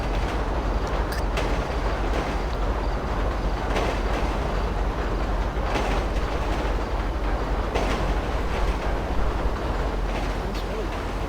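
A train in the game GTA V rolls along its rails in a continuous loud rumble with rattling and clicking wheel noise, steady throughout at close range.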